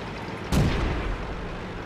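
A tank cannon fires once in World of Tanks, a single loud close boom with a sharp onset that trails off into a low rumble, with no other sounds around it.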